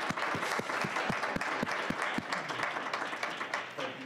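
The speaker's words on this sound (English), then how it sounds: "give them all a round of applause." Audience applause at a panel event on healing through advocacy and education, a steady dense round of clapping with a few sharper individual claps standing out, holding level throughout before easing slightly at the end.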